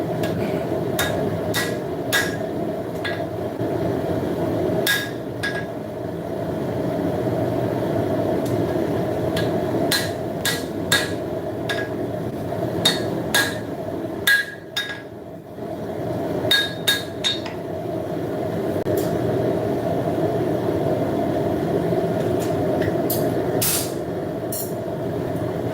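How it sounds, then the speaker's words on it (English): Power hammer pounding out heated knife handle blocks in a forge shop, a rapid series of loud, sharp metallic blows in bursts over a constant low mechanical drone. "it only takes a couple heats using the power hammer"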